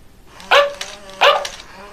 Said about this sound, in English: when he speaks, he either barks once, twice, or 3 times